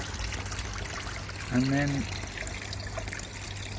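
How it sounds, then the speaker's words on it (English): Water from a 75-watt solar-powered pond pump trickles over a small rock waterfall, a steady faint splashing wash with brief speech from a man partway through. "It's putting out that much water, plenty for this tiny little waterfall over the rock"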